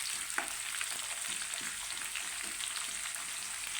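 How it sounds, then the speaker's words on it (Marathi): Finely chopped onion fries in oil until reddish for a quick potato-and-pea bhaji, with a soft, continuous crackle and a few faint stirring scrapes, quiet and alone. "लाल होईपर्यंत भाजून घ्यायचं तेलामध्ये"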